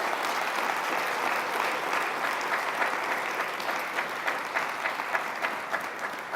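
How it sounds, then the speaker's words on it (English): A lecture audience claps steadily and loudly for several seconds, with dense, even applause filling the room. "Clap it up for yourselves."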